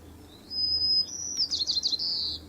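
Bird call from a bird song quiz app: a clear, high whistled note held for about half a second, then a rapid trilled series of chirps, loud and close.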